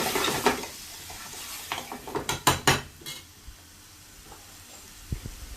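Onions and coriander frying in a pan as a spoon stirs them, a soft steady sizzle with a few clattering scrapes and knocks of the utensil against the pan, fairly quiet and without talk.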